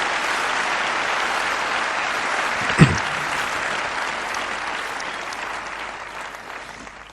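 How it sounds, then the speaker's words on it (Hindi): A large audience at a motivational business meeting applauds in a dense, sustained burst that stays loud and even, with one sharp knock partway through, then slowly fades toward the end. "एक जोरदार तालियां इन दोनों चीजों के लिए।"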